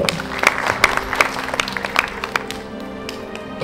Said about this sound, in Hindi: तो एक बार जोरदार तालियां होनी चाहिए हमारे बॉलीवुड हिस्ट्री के लिए